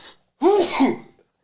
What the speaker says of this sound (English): Outside of me having to sneeze a little bit, allergies kicking up